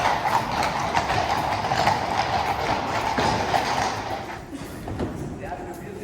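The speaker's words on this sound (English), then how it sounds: "Today, about 20 horses are kept at the palace" Horses' hooves clip-clop steadily on hard ground in the palace stables in Copenhagen, where about 20 horses are kept, with a voice talking over the continuous clatter.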